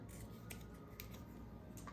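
Paper being cut with scissors for a scrapbook layout, with a few sharp snips spaced roughly half a second apart, faint and close against a low steady background hum.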